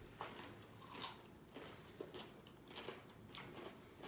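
Faint, close crunching bites into fresh cucumber recur in a loose rhythm about every half second to second, with soft chewing in between in a quiet room.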